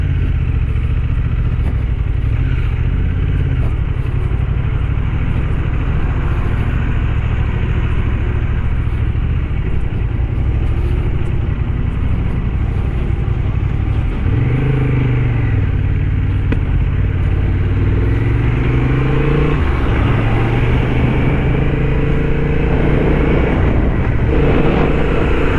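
A Honda CB750 Hornet motorcycle rides a mountain road in Himachal Pradesh, its engine droning steadily and loudly throughout with wind rush, gear changes and rising revs, alongside nearby traffic noise.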